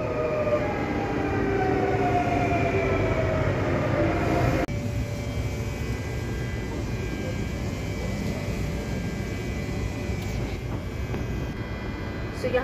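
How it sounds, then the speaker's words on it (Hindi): A train pulling into a station in Luxembourg in winter, with a loud steady rail rumble and a high whine that shifts pitch, then a sudden drop to a lower, continuous running roar. "मेरी ट्रेन आ गई"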